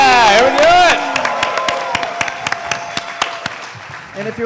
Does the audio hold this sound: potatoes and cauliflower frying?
no